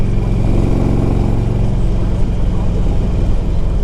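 Engine of a 2002 Harley Davidson Electra Glide Ultra running, a loud, close, rumbling idle with a steady low-pitched pulsing throb that holds throughout.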